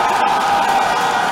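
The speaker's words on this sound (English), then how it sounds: "And the crowd goes absolutely bananas." A dense, loud rugby crowd roars steadily at the Kyadondo Rugby Grounds during a Uganda versus Kenya sevens match, a continuous wash of cheering right after a try is awarded.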